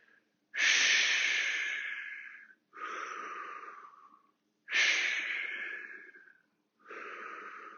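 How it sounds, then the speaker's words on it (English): Deep exhales and inhales during a fitness class twisting exercise, four long breaths alternating in a slow, even rhythm, close and fairly loud with short silences between them. "Exhale, inhale, exhale, inhale."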